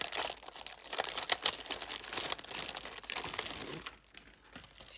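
Foam chipboard stickers stuck together being pulled and handled for a gingerbread page, giving a continuous close crinkling and crackling with papery rustles, fairly loud and steady, dipping briefly near the end.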